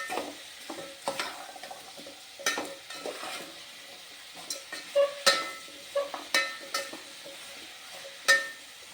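Mixed vegetables sautéed for sambar in a pan: a soft, steady sizzle broken by repeated clinks and scrapes of a spoon stirring against the metal, close and fairly quiet.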